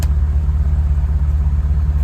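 Mitsubishi Lancer EVO 4 engine idling while being parked: a loud, close, steady low rumble with an even pulsing throb and no revving.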